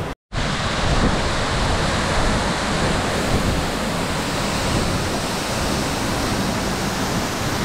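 Šútovský waterfall in the Slovak mountains roars in a dense, steady wash of rushing water that stays loud and unbroken from start to end after a brief gap at the opening.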